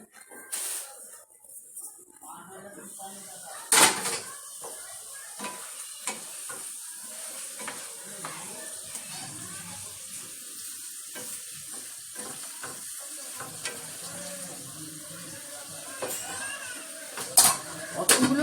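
Food sizzles gently in a covered pan over low heat, a soft steady hiss with clinks and clatters of the pot and lid, close by and without talking.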